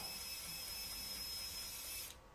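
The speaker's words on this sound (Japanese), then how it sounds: "ドリル回転でフレアを作ります。" A power drill turning a flaring tool to flare air conditioner pipe whirs steadily at high speed, a continuous mechanical whine that cuts off abruptly near the end.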